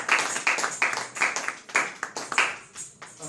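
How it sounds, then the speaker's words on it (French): A church congregation claps in a burst of applause, sharp overlapping claps in an uneven rhythm rising and falling across the room, moderately loud and close, with no talk over it. "Nous acclamons pour la parole du Seigneur."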